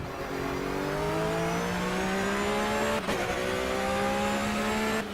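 Race car engine at Le Mans in a racing video game, a loud steady whine rising smoothly in pitch as the car accelerates through the gears, with a brief shift break partway through.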